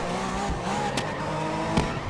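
Race car in the GRID 2019 racing game, a GT1 car braking into a corner: steady engine drone with a couple of short squealing tire bursts, loud and close, with no voices over it.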